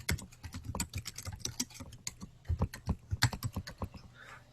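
Rapid, close clicking of a computer keyboard, typed in uneven bursts while answers are entered in an ASSISTments online math assessment, with the keystrokes heard alone and fading at the end.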